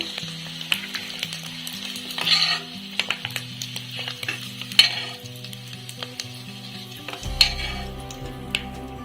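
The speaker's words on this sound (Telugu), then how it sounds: "ఈ కలర్ వచ్చిన తర్వాత ఎగ్స్ ఫ్రై చేసుకోవాలి" Eggs frying in a pan while egg biryani is made, with a loud, continuous sizzle and frequent clinks and scrapes of a utensil against the pan, joined by a low droning tone toward the end.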